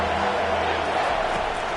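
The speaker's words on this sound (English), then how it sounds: "this crowd is tearing the lid off this place." Stadium crowd in a football video game roaring loudly, a dense steady wall of cheering with commentary voices over it.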